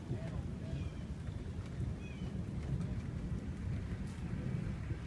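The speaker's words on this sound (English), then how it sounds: "All you can see is nothing but lightning here, nothing but thunder." A severe thunderstorm in Sutton, Ontario, with steady heavy rain and low rumbling thunder filling the whole stretch, loud and close with a constant wash of noise.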